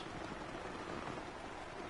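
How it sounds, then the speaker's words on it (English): Steady rain falling in a video game, a soft continuous hiss of drops spread evenly across the whole stretch with no other sounds and no talk. "It's also raining in-game, that's nice."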